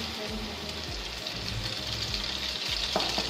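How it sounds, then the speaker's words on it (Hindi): A slice of bread dipped in a sugary egg mixture fries in hot oil, a steady dense sizzle and crackle close up with soft low bumps from the pan. "अब हम इस मिक्सचर में डिप करेंगे ये ब्रेड स्लाइस, और हम इसको ऐसे डालेंगे"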